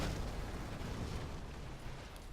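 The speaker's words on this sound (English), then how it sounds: "Quad cannon is moving in, and tunnel being destroyed." A tunnel blown apart in Command & Conquer: Generals Zero Hour, a dense, continuous rumbling blast with crackling debris that fills the whole stretch with no talk over it.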